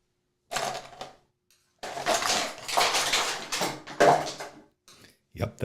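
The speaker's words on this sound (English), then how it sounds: "that was the sound of me dropping all my paintbrushes on the floor" A clattering jumble of paintbrushes falls and scatters across a hard floor in several quick bursts, close by, with no talking.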